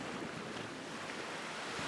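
Strong wind buffets the microphone over steady crashing ocean surf on a remote tidal island shore, a loud continuous roar with no pause and no talking.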